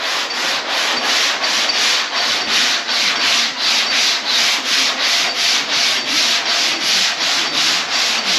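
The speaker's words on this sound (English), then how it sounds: "And then he sands it back." Rhythmic back-and-forth hand sanding of guide coat on a 1967 Camaro body, a steady raspy scrape repeating about twice per second, close and loud with no voices.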